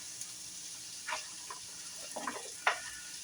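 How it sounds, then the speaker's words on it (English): Celery added to a pan already frying onions for cashew chicken, with a low background sizzle broken by several short crackling bursts as the pieces land and get stirred. "And I'm going to add my celery."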